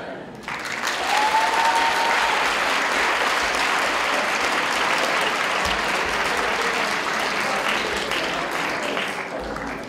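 Audience applause, a full crowd clapping loudly and continuously with a faint whistle near the start, holding steady before easing slightly at the end.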